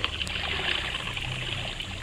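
Fountain water flows steadily in a blocky sandbox video game, a continuous bright hiss and trickle holding level throughout.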